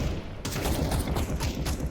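Rapid bursts of auto sniper gunfire crackle in a Counter-Strike esports match, fairly loud and dense over steady game background noise.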